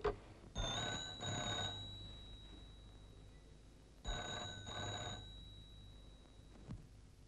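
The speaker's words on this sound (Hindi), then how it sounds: "सरकार आपका फोन।" An old telephone bell in a 1950 Hindi drama film rings in two separate bursts, each a quick double trill with a bright metallic buzz, followed by a quiet pause and a short clunk near the end.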